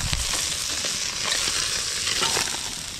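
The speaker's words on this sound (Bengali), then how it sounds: "তেল গরম হয়ে গেছে, আর মাছ ভেজে নেব।" Small village pond fish being fried in hot oil, a dense, steady sizzle and crackle with spitting pops throughout, close and continuous with no talking.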